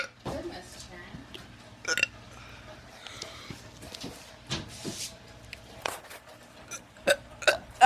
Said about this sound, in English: let's do some burps